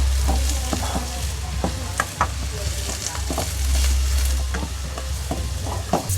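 Chopped onion and pieces of chilli chicken sautéing in a pan at home, a steady close sizzle broken by repeated sharp scrapes and clacks of a spoon stirring the mixture.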